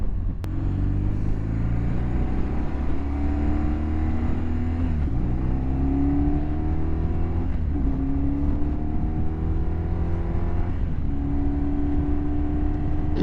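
A 2009 BMW R1200RT motorcycle engine drones loudly while riding, its revs climbing steadily in about four rising pulls with short dips between them as gears change, constant and close with no talk.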